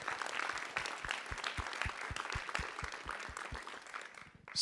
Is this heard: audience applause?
yes